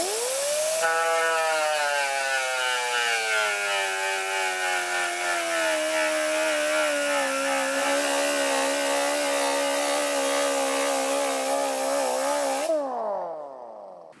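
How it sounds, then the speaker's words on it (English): Disc sander with a foam pad grinding down a weld in a metal inside corner, a loud steady whine that rises quickly at start-up, holds for about twelve seconds, then winds down. "I'm going to use a disc sander with a foam pad to sand the weld in this inside corner"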